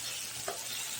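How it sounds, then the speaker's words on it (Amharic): Onion and tomato frying in a pan while being stirred, a close, even sizzle with a single soft scrape of the spoon partway through, no talking over it. "ሽንኩርት እንደና ቲማቲም እንደዚህ መብሰል አለበት በደንብ ማለት ነው።"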